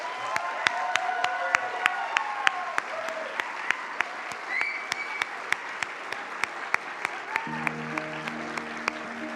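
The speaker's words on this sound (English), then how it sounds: "Please join me with a huge round of applause for this year's Supporting Services Employee of the Year Award winner" An audience at an awards ceremony applauds an employee of the year winner, with steady clapping and sharp individual claps standing out, murmurs and faint cheers underneath, and a musical tone entering near the end.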